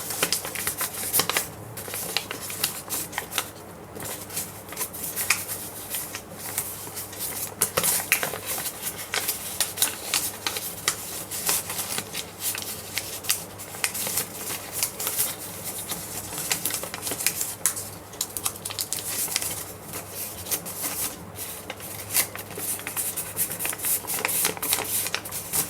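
Paper being folded and creased by hand for an origami flapping bird, a dense continuous crackle of crinkling and rubbing, close and steady.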